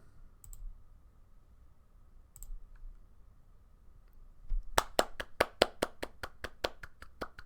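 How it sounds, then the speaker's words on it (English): A single person claps about a dozen times in a quick, even rhythm, close and crisp, after a few faint clicks in a quiet room. "That's me clapping."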